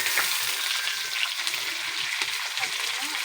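Bitter gourd (ampalaya) hits a pan already holding hotdog and squid, giving a loud, dense sizzle with crackling pops throughout, close and steady with no talking.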